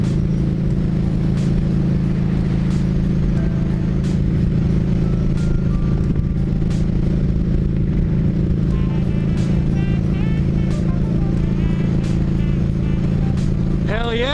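A cruiser motorcycle rides alongside a sport bike on the road, with a loud, constant engine drone and rushing wind roar filling the whole stretch, plus a few brief higher whines near the end.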